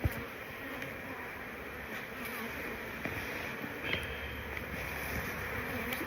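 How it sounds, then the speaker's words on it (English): Steady, dense buzzing of a honeybee swarm close by as it is hived, continuous throughout with a light breezy hiss underneath. "there are definitely bees in there."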